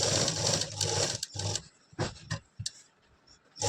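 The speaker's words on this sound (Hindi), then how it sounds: "मशीन का स्टिच बड़ा करते हुए यहाँ तक जो है अपनी सिलाई को लगा लेंगे।" An electric sewing machine stitches a lace yoke neck design in short, loud whirring bursts separated by brief pauses, a stop-start run of stitching up close with no talk.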